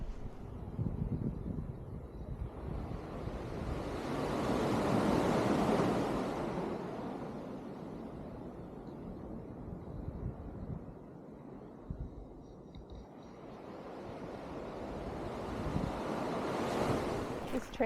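Atlantic surf rolls in at Lawrencetown Beach, Nova Scotia, a broad steady roar that swells and recedes under gusting wind buffeting the microphone, with a faint voice briefly heard.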